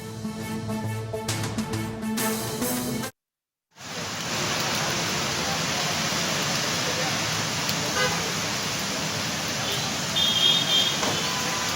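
Heavy rain over a jammed city road in Hyderabad, a continuous roaring hiss of downpour and traffic with a car horn sounding briefly near the end, after a short musical opening cut by a moment of silence.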